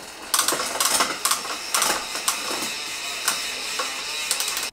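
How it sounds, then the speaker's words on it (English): Pedals are threaded onto the cranks of a Yeti SB130 mountain bike, a quick series of sharp metallic ratcheting clicks in irregular bursts, close and clear with no talk. "I'm gonna go ahead and put some pedals on this bike."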